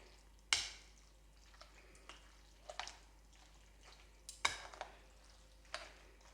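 A pasta dish is stirred and mixed in a pan, giving soft, sparse scrapes and clinks of a utensil against the pan, with two sharper knocks standing out in an otherwise quiet kitchen.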